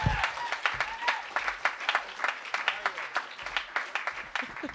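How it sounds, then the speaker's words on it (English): Audience at a New York storytelling show claps for comedian Ophira Eisenberg, with distinct, fairly sparse hand claps in an uneven rhythm and a few voices and cheers mixed in. "Please give a big round of applause for Ophira Eisenberg."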